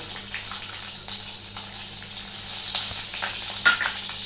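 Black cumin seeds (kalonji) fry in hot oil in a pan, a steady close hiss that swells louder midway, with light stirring clicks and no talk.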